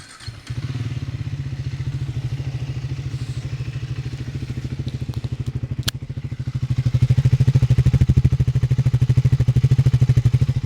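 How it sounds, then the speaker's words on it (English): A single-cylinder motorcycle exhaust, from either a Triumph Speed 400 or a Royal Enfield Guerrilla 450, thumps at idle in a fast, even pulse, recorded up close and swelling louder as the revs rise slightly partway through. "It's got quite a nice rumble from that exhaust."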